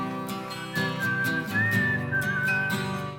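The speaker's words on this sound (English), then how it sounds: "bringing back whistling in a pop song" Melodic whistling rides over a pop song's backing of piano chords and percussion, the clear whistled tune gliding between notes in the middle of the passage.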